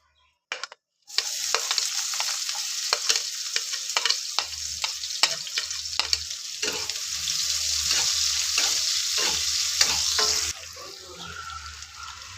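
Chopped onion hits hot oil in a pan for a spicy pasta dish and bursts into a loud, steady sizzle, with frequent scraping stir strokes and clicks running over it until the hiss suddenly drops near the end.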